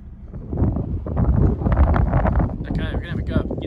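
Wind gusts across an open winter campsite among trees, a steady low buffeting rumble on the microphone that swells and holds throughout, with a fainter higher whistle near the end.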